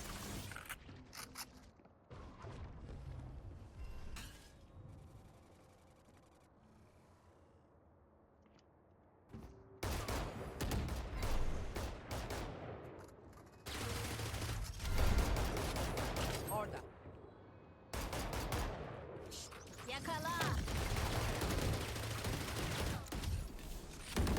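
Gunfire in a ranked shooter video game comes in several heavy bursts of rapid shots separated by quieter stretches with footsteps, and someone speaks occasionally between them.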